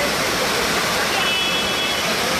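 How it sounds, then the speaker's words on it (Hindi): Water of the Mandakini river rushing between rocks at a waterfall gives a loud, steady, broadband roar that fills the whole stretch without a break. "पत्थरों के बीच से पानी निकलता हुआ, झरना हुआ"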